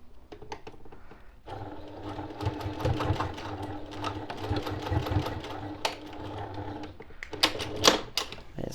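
A sewing machine basting a seam on a boxed zipper pouch, running in quick bursts of rapid rhythmic stitching with brief stops, clicks and handling noises between, close and alone.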